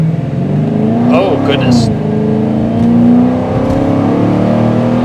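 A supercharged 2010 Dodge Challenger R/T with a Hemi V8 revs and accelerates hard from inside the cabin, its engine note climbing and swelling steadily while a man exclaims over it.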